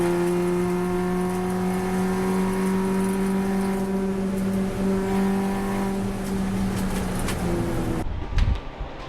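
An Audi TT race car on a track test day accelerates after a downshift onto a long straight, its engine a loud sustained droning whine that holds for several seconds before cutting off abruptly near the end.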